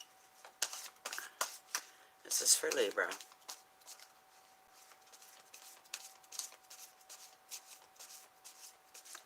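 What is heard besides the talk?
shuffling tarot cards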